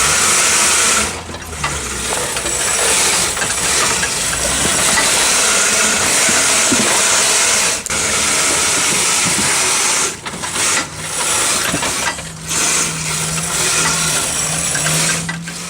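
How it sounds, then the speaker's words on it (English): An electric Suzuki Samurai 4x4 driven by two electric forklift motors on a chain runs steadily with a loud whining, hissing drive noise, occasional brief dips, and no talk. "there's two electric forklift motors driving on a chain"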